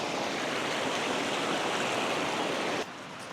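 A river stream rushes steadily and close by as a loud, continuous broadband hiss, cutting down abruptly near the end to a softer flow.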